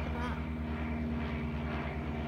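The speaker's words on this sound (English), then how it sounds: "We missed the red arrows, but we've still got some planes." A propeller airplane drones overhead in an outdoor garden setting, a steady, loud, throbbing engine hum that lasts throughout, with a faint voice briefly audible.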